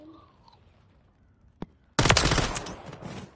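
Gunfire in the video game Call of Duty, a single sharp shot followed by a loud sustained burst of rapid automatic fire.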